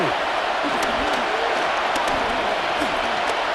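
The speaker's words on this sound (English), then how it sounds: "Getting hard to hear in here. The noise very loud from the crowd." Stadium crowd noise from a Madden NFL 26 football game, a dense, loud, continuous roar of cheering fans with faint bits of voice mixed in throughout.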